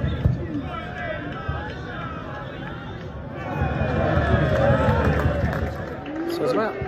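Sparse crowd murmur and scattered chanting from away supporters at a quiet Boreham Wood versus Southend United football match, a steady distant hubbub that swells slightly midway.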